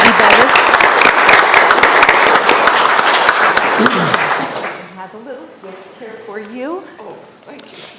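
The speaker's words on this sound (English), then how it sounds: "please help give them a round of applause and thank them for their efforts to make our community better" Audience applause at a city council business meeting, a strong, steady round of clapping for about four seconds that tapers off as voices begin speaking nearby.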